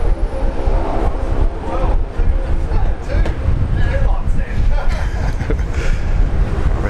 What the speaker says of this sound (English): A nice little takeoff here of the Fokker 70.